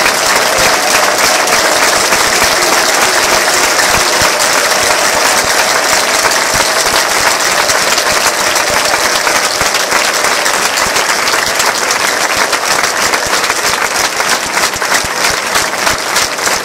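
Church congregation applauding for a full minute, a loud, dense and unbroken roar of clapping that stays steady throughout with a faint voice beneath.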